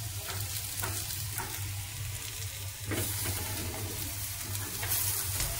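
Potatoes with greens, tomato and green chilli fry in a pan, a steady close sizzle with a few scraping stirs breaking through.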